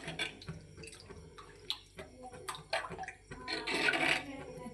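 Water being poured into a pan of fish curry, an uneven splashing and trickling with small drips and bursts, close by, with no talking.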